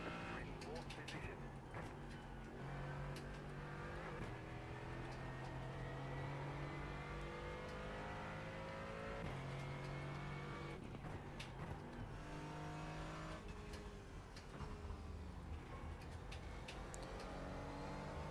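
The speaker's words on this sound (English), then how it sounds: "That big old Benz V8 revving up to 7K." A big Mercedes-Benz V8 race car engine revs toward about 7,000 rpm on a racetrack, a steady loud roar with rising pitch sweeps, and a commentator talks over it throughout.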